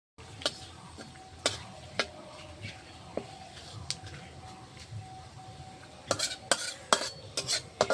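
Chillies, bay leaves and black cumin sizzling in hot oil in a kadai: a quiet, soft frying hiss punctuated by sharp metallic spoon-and-pan clinks, clustering more densely near the end.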